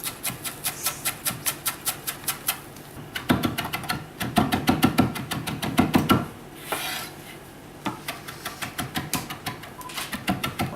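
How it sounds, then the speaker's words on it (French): Fresh parsley is chopped finely with a knife on a board, a steady run of quick, crisp taps that speeds into a dense flurry midway before settling back to an even rhythm, close and clear. "Le persil va être haché."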